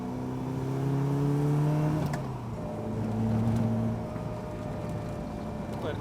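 A Caterham sports car with a newly installed differential on a test drive, its engine drone rising and falling steadily with throttle through the cabin, no talk.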